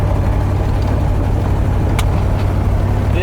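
A 1972 Corvette cruises along the road in a steady, constant engine drone with a low rumble, and a brief sharp click or tick cuts through partway.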